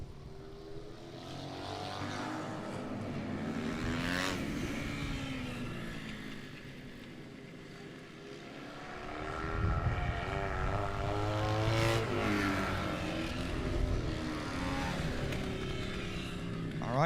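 Dirt bike and quad race engines snarl past in sustained roars, rising and falling as machines pass, with an announcer talking over the track noise.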